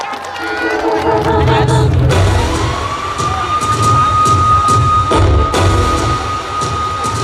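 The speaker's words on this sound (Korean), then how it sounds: "여러분 큰 박수로 맞이해 주시기 바랍니다" An audience at a county-day celebration concert cheers and applauds loudly as a guest singer is welcomed onstage. The dense crowd noise runs throughout, with a sustained tone from the sound system and voices mixed in.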